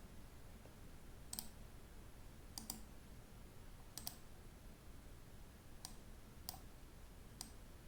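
Computer mouse clicks, sharp and close, coming in single clicks and quick pairs roughly every second or so over a faint quiet room background.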